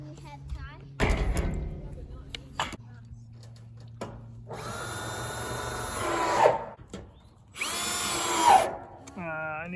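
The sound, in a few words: power drill driving roofing screws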